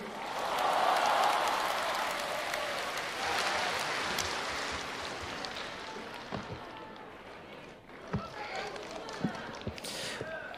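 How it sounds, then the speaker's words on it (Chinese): Dense, sustained applause from a crosstalk show audience greets two performers, loud at first and then thinning out, with a voice speaking over the fading clapping near the end. "感谢各位的热情掌声啊！"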